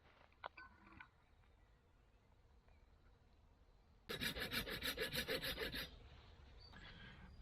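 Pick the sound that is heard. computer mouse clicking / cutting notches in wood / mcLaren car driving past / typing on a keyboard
cutting notches in wood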